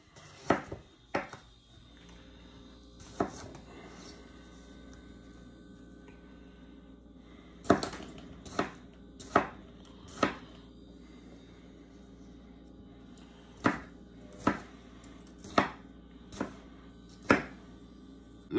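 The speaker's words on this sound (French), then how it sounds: "Alors, vu que tout va passer au pied mélangeur, on coupe en morceaux." A wide-bladed Nakiri knife cubes vegetables for a tomato sauce, its sharp taps striking the cutting board one at a time. The strikes come in irregular clusters with pauses between them, close and distinct over a quiet room.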